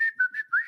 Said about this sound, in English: have you got one of those wee whistles, whatever they are?